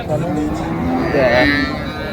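A cow lows once at a busy cattle market, with a drawn-out moo over crowd murmur and background chatter.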